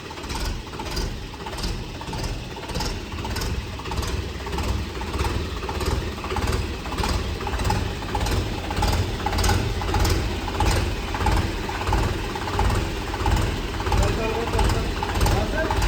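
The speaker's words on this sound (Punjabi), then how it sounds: "ਟਰਬੋ ਲੱਗੀ ਹੁੰਦੀ ਐ ਸਿਟੀ ਜੀ ਆਵਾਜ਼ ਆਉਂਦੀ ਹੈ" A 575 tractor engine runs steadily with a rhythmic, pulsing chug and a thin high turbocharger whistle riding over it, sounding close and continuous.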